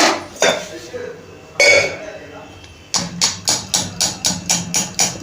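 Spoon knocking and scraping against a metal pot while water is drained from paneer, a few irregular clanks, then a quick series of regular rhythmic taps close by.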